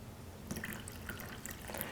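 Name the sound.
Kangen 9.5 water being poured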